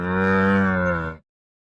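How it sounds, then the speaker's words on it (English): A camel lets out a single deep, rich, droning bellow lasting just over a second, loud and close, then stops sharply into silence. "camel"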